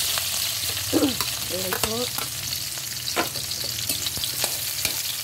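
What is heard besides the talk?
onion frying in cooking oil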